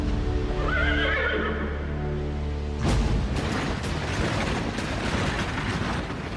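An untamed horse neighs loudly in a long, wavering whinny up close. A sudden burst of rough noise follows, with hoof clatter.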